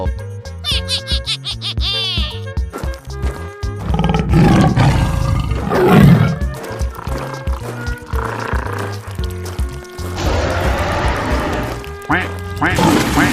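A duck quacks in quick repeated bursts among other animal calls and a roaring sound, loud and close over a busy musical backing.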